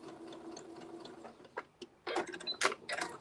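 A sewing machine stitches fabric uphill over a seam, its quiet mechanical chatter stopping and starting in short bursts close by, with no talk over it.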